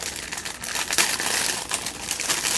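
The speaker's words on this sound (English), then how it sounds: "Sorry for the crinkling." Plastic wrapping around a textured resin mold tray crinkles loudly and continuously up close, a dense rustling crackle with no speech.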